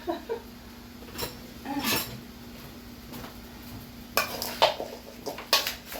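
Potatoes tossed with butter, salt and pepper in a bowl, giving irregular clinks and scrapes of a utensil against the dish in short bursts, with a quieter gap midway and a cluster of sharper knocks near the end.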